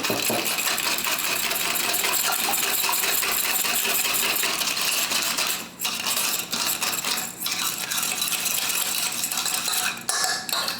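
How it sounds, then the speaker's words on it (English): Starch is briskly mixed with a little fruit juice in a bowl for a strawberry cake glaze, giving a dense run of rapid clinks and scraping that pauses briefly a few times. "now I use a little bit of the liquid to mix this together"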